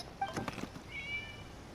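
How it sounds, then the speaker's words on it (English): A cat in the Genshin Impact video game gives a faint, brief meow, with a little soft rustling just before it, in a quiet in-game scene. "A cat? It was just a cat."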